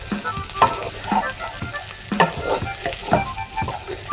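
Fish roe frying in a pan with curry leaves, loud close sizzling broken by regular scraping strokes of a spoon stirring through the roe, no voices.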